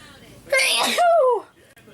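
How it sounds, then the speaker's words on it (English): A person lets out a single loud, sharp sneeze up close, a burst followed by a brief tapering vocal tail. "Sneeze, hold on."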